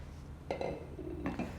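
A few soft clinks and knocks of a plate being set down and shifted, quiet and close in an otherwise still room.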